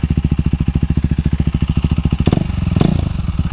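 Loud, close KTM Duke 390 on an aftermarket exhaust with no silencer, thumping rapidly at idle before a sharp rev blip near the end, with a rattling clatter over the rising engine note.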